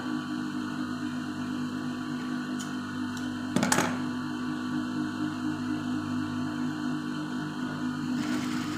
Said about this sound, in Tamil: நம்ம கிளாத்தை வச்சு அப்படியே ஸ்டிச் பண்ணி விடலாம்